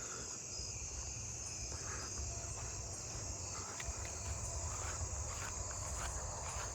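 Faint, steady chirping of fall field crickets mixed with other insect trills in a quiet outdoor background, with no talking.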